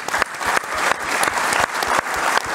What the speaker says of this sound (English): I think applause is actually due for what you've done